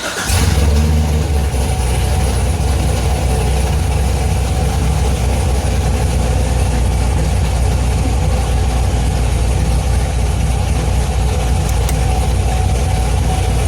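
A C7 Corvette fires up with a quick start burst, then settles into a steady, loud, rumbling idle that holds evenly throughout with no voices.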